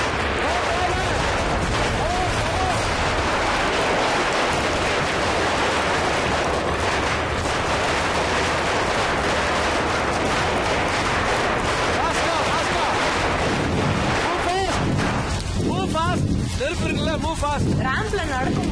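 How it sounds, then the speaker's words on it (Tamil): Firecrackers bursting in dense, continuous crackling volleys on a stage ramp, loud and close throughout, with people talking over the noise near the end. "பட்டாசு வெடிக்க பயப்படாத."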